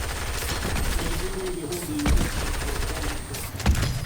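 Gunfire from the video game Fortnite, a mix of shots and bursts over noisy game audio, with a couple of heavier blasts near the middle and end.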